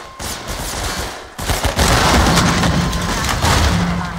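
Loud, close gunshots in the game Half-Life 2: Episode Two: a few sharp cracks, a short pause, then a dense rolling burst of fire with booming echoes.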